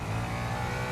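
Audi LMDH prototype race car engine in the racing game Real Racing 3, a steady loud mid-pitched drone with a sustained low rumble and no clear shifts across one second.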